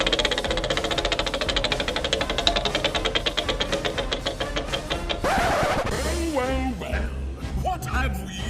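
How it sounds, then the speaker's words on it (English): A game-show style Final Jeopardy wheel spins with a steady rapid clicking ratchet for about five seconds, then gives way to a whooshing swoosh and playful sliding tones as the spin ends. "let's find out what your Final Jeopardy category is by spinning the Final Jeopardy wheel"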